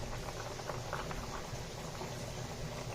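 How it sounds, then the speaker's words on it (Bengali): A pot of potatoes and ridge gourd boils with a soft, steady bubbling and faint patter at low volume, continuous and without speech. "সব সেদ্ধ হয়ে গেছে আলু ঝিঙে সব সেদ্ধ হয়ে গেছে"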